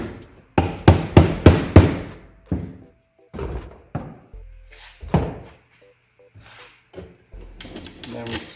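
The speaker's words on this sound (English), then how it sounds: "Give that a little tap." Hammer taps on a part while a Makita 6922NB electric shear wrench is reassembled: a quick run of four sharp taps, then scattered single knocks and clunks, close and crisp, between spoken words.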